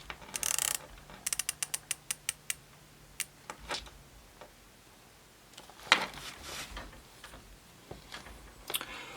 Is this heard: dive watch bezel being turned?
yes